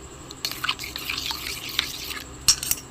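A spoon stirring aromatic rice batter with a pinch of salt in a bowl, soft wet slaps and clinks at an uneven pace, close and fairly quiet with no talk.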